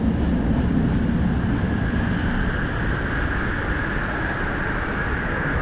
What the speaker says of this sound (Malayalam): മെട്രോ വരുന്നുണ്ട്.